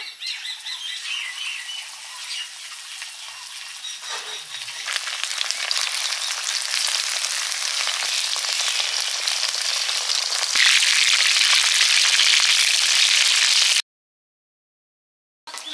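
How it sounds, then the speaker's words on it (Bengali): Chilli chicken pieces sizzle in hot white oil, a bright crackling hiss that swells louder as frying goes on, then cuts off abruptly near the end. "চিলি চিকেন দিয়ে দিচ্ছি, তেল গরম হয়ে গেছে।"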